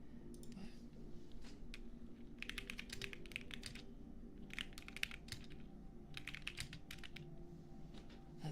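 Typing on a computer keyboard comes in quick bursts of crisp clicking keystrokes, close and soft, separated by short pauses over a low hum.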